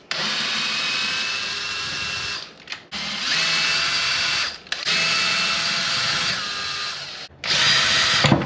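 A power driver whirs in long bursts, backing screws out of the upside-down chassis of a Traxxas X-Maxx Ultimate RC truck; three sustained runs separated by short pauses, close and loud, with no talking.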